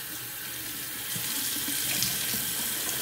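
Tap water runs steadily into a sink while a shaving brush is rinsed out, a constant close hiss of flowing water with slight splashing changes, no talking.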